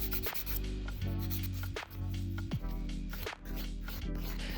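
A nail file rubbing back and forth along the sides of a client's nail, steady close scratchy strokes with short pauses between passes.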